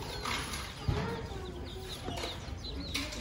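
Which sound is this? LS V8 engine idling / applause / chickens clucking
chickens clucking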